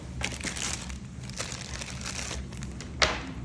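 A thin plastic vinyl sheet crinkles and rustles as it is handled near a coating thickness gauge, soft irregular crackles with a sharper crunch near the end, close and without talk.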